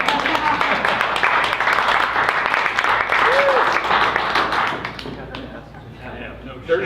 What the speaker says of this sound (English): You may have to applaud individually for these.